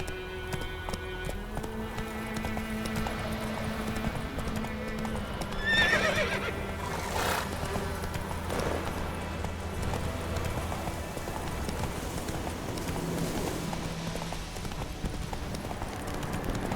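Roach, a horse in The Witcher 3, clip-clops at a steady trot with repeated hoofbeats and lets out a neigh partway through, set against a quiet outdoor game ambience.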